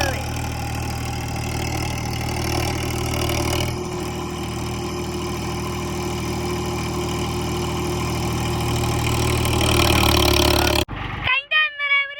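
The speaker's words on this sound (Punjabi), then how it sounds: "ਲੋ ਵੀ ਟਰੈਕਟਰ ਕੱਢਤਾ ਹੀ ਆਪਾਂ ਬਾਹਰ ਤੇ ਆਹ ਟਰੈਕਟਰ 4x4 ਲਾਇਆ ਹੁਣ" A 4x4 tractor engine idles with a steady, continuous drone that holds for most of the stretch before it gives way to a brief, different, broken-up sound at the end.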